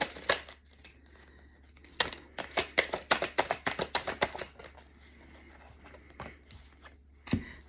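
A thick Mystic Monday tarot card deck is shuffled by hand, a rapid run of crisp flapping card riffles in quick bursts, close and clear, with a few isolated taps and pauses between.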